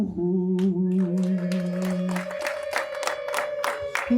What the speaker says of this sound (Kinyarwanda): tumuhe impundu